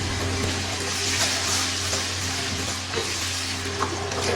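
Ginger garlic paste frying with browned onions in a pan, a continuous close sizzle with soft stirring and scraping throughout, no voices.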